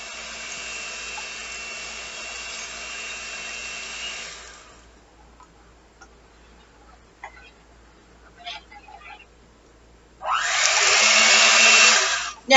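An electric hand mixer whirs loudly through pasta and cheese, cuts out for a few seconds of quiet clinks and small knocks, then roars back on at full strength.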